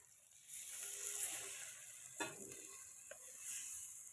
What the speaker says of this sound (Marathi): शिजायसाठी पाणी टाकून घेते थोडं